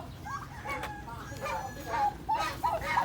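Chickens cluck and squawk nearby at a farm in short, uneven calls, with some background noise and a voice faintly mixed in.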